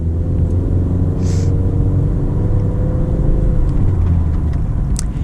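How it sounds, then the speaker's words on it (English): A 2020 Honda CR-V Touring accelerates, its engine a steady, loud low rumble under constant road and tyre noise heard from inside the cabin, with no talking. "Now we're gonna get a little acceleration here at the CR-V."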